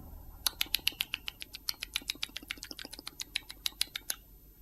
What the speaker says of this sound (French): Un petit rongeur pour commencer.